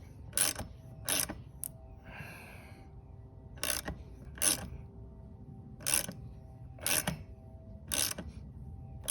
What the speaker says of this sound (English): Use my short wrench for tightening this down until I get to the tightening point.